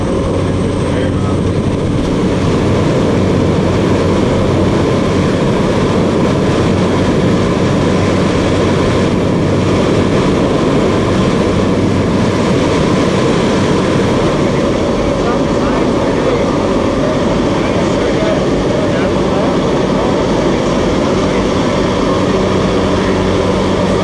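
A small airplane's engine drones loud and steady inside the cabin before a tandem skydive, a constant dense roar with no break throughout.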